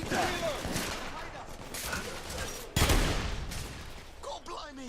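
Gunfire from the Victorian-era shooter The Order: 1886, with sharp repeated shots and bursts going off amid a busy battle, with a particularly heavy blast near the middle, while people shout over the noise.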